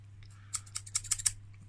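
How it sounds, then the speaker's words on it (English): A quick run of crisp snipping clicks, several cuts in fast succession over a low steady hum. "Scissors."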